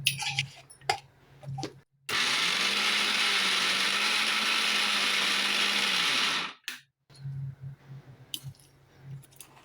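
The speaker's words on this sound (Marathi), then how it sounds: "जास्त फिरून नाही ठेवायचं मिक्सरने तर तुमची पेस्ट होऊन जाईल डाळीची" A mixer grinder grinds soaked lentils into a coarse batter for dal vada, running loud and steady for about four seconds, with quieter kitchen clatter before and after.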